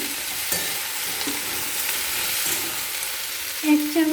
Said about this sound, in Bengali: এরপর ফুলকপি টুকরো আর গাজরের টুকরো দিয়ে দিলাম, নাড়াচাড়া করে নেব।